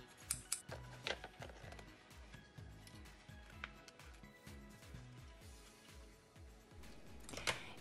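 Scissors snip through printed paper, cutting out a dragonfly body design, a quiet, close series of repeated crisp cuts in an irregular rhythm, with a few sharper clicks scattered throughout.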